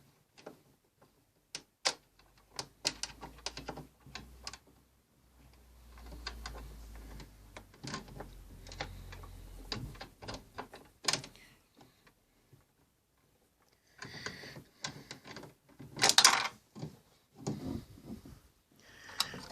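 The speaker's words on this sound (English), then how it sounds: "you've got to put the thumb screws back where they came from" Thumb screws being fitted back into a fruit machine, with scattered small metallic ticks, clicks and taps that come in bursts with quiet gaps, near and faint.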